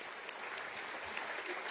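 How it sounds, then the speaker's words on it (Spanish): Applause from members of Venezuela's National Assembly during a session, a faint, steady wash of clapping heard from a distance, brief and without talk over it. "Brindemos un aplauso a nuestro querido José Fructuoso Vivas."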